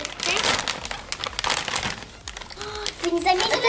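Crinkling plastic and paper from a gift package sent by subscribers being unwrapped, packed with Chinese snacks. Loud, close rustling and crumpling runs throughout, with brief voices near the end.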